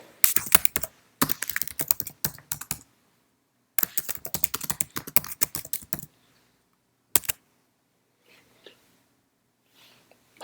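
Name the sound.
typing an email on a computer keyboard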